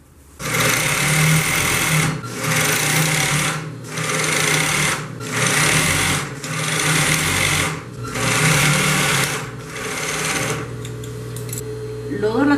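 A sewing machine stitches the side panels of a bag made from recycled denim jeans onto laminated foam. It runs in about six loud, close bursts of steady whirring, each separated by a brief pause.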